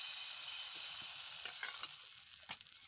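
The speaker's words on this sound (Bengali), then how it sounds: "আবারও একটু তেল ব্রাশ করে নেব। এক হাতা ব্যাটার দিয়ে দেব।" Pitha batter sizzles on a hot pan brushed with oil, a bright continuous hiss with a few soft scraping taps and clicks as the batter is ladled and spread, fairly quiet and close.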